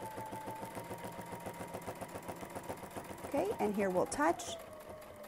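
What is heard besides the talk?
sewing machine quilting a crosshatch border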